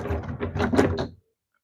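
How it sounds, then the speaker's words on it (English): Doors on an RV at an RV show being pushed shut, giving a cluster of close, hollow thunks and knocks over about a second, followed by silence. "Close the doors."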